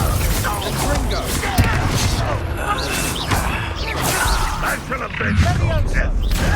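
In the Hogwarts Legacy video game, the Confringo fire-blast spell and other combat effects crackle and burst in a dense, busy mix of whooshes and impacts. Voices shout spell names over the action.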